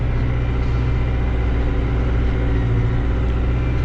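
Massey Ferguson MF 5430 tractor engine runs at a steady, loud, low rumble with a constant mid-range drone, close by and uninterrupted for the whole stretch.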